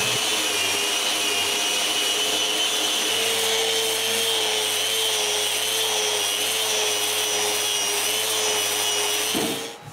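Excess glue being scraped off wooden frames for a bathroom vanity with a power tool, giving a loud, steady whirring drone that runs without a break and cuts off abruptly at the end.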